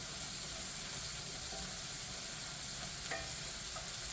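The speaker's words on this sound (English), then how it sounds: "We're going to brown the meat." Venison sizzles as it browns in a frying pan, with a steady close-up hiss and crackle and a couple of faint clinks, and no voices.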